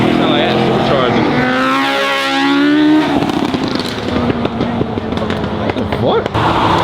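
Supercharged car engine revving hard at a crowded car meet, a loud rising and falling whine with harmonics sweeping up and down, then rough rumbling revs as people talk and shout over it.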